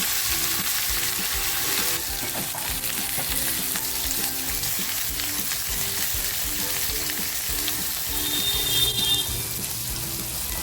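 Masala spice mix frying in a pan for a homemade cashew and pea curry, a steady close sizzle with light stirring scrapes running throughout.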